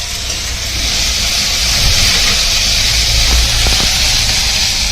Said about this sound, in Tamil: இஞ்சி பூண்டு பேஸ்ட்டு போட்டு வதக்கியாச்சு நல்லா